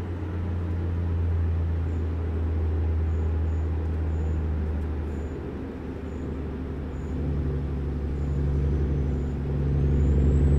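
Truck air brakes in American Truck Simulator, a steady low engine and road rumble throughout with brief faint hissy releases on top, continuous and fairly loud with no voice.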